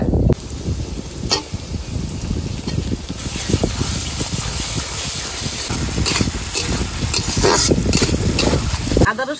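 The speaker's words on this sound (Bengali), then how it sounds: "আদা রসুন পেঁয়াজ একটু ভেজে নিয়েছি।" Ginger garlic paste and onion frying in a pan for a curry, a loud, dense, continuous sizzle with hissy bursts and frequent stirring scrapes throughout, close up.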